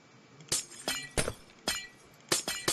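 Six sharp glass-shattering crashes in a video game puzzle map, spaced irregularly about half a second apart, each a bright burst with brief tinkling decay, fairly close with no talking.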